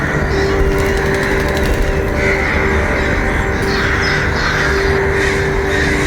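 Crows cawing in the atmospheric video game Carried By Crows, caws over a dense, steady ambient game soundscape with a continuous low drone, calls recurring through the scene at moderate loudness.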